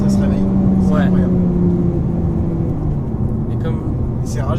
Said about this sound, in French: Et c'est rageur comme moteur.